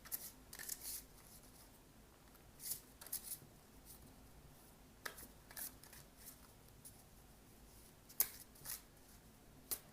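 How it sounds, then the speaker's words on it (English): Quiet, close-up riffling and shuffling of a deck of cards in short bursts, with soft clicks and pauses between. "go ahead and shuffle"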